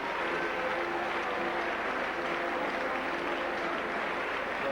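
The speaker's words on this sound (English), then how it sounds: "Chris Joint applauding the crowd there as the Saints go off." A rugby league crowd at a St Helens Saints match claps and cheers in a steady, dense wash of applause as the team leaves the field, with no voices standing out.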